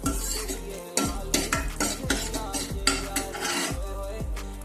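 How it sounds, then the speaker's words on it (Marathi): Whole spices stir-fried in a little oil for a butter paneer masala, with repeated scraping and clinking of a utensil against the pan in a steady rhythm over a soft sizzle, close and fairly loud. "खडा मसाला 1-2 मिनिटे परतून घेऊया।"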